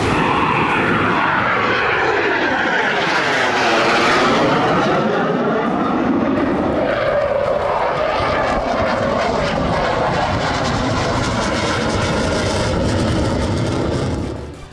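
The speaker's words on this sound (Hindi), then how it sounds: "पाकिस्तान से तनाव के बीच उत्तर प्रदेश के शाहजहांपुर में गंगा एक्सप्रेसवे पर फाइटर जेट की लैंडिंग और टेक ऑफ का रिहर्सल किया गया" Fighter jets such as a Rafale, MiG and Jaguar roar along the Ganga Expressway near Shahjahanpur, Uttar Pradesh, during landing and take-off drills. The loud, continuous jet engine noise sweeps in pitch as an aircraft passes close by, with no voices.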